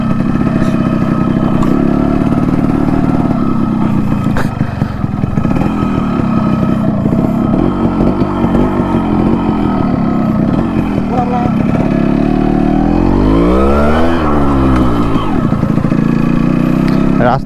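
Yamaha RX 100 motorcycle engine labouring and revving up a slippery rain-wet uphill road, close and loud throughout with a rising rev surge near the end, people talking over it.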